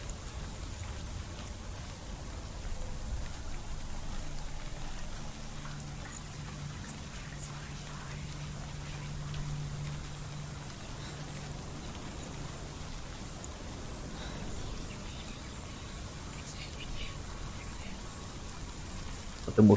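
Steady, endless rain falls in Hellblade: Senua's Sacrifice, a continuous hiss of drops on surfaces with faint low rumbling underneath that holds at an even level throughout.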